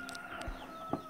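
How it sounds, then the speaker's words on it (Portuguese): Chickens on a small family farm give a few faint, brief clucks at a distance over quiet outdoor background. "Gente, quanta galinha."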